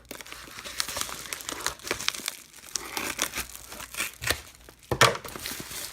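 Plastic bag of Lego parts being cut open along the top: close, continuous crinkling and crumpling with small tearing snips and one sharper rustle near the end.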